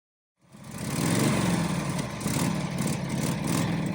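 A 1949 Harley-Davidson Panhead motorcycle engine, first started after 60 years, runs with a rough, steady close-up rumble that swells quickly at the start and holds.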